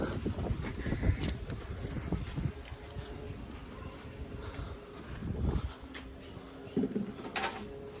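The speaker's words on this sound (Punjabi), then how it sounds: "ਇੱਕ ਹਵਾ ਚੱਲਦੀ ਬਹੁਤ ਤੇਜ਼" Strong wind blows outdoors beside a house, rumbling and buffeting the microphone in uneven gusts, with faint voices in the background.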